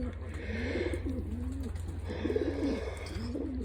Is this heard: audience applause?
no